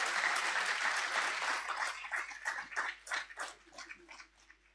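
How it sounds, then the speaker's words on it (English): Audience applause at a secondary school graduation ceremony in Grenada, a dense wash of clapping that starts full and loud, then thins into scattered, uneven claps as it dies away. "So let us give them another round of applause."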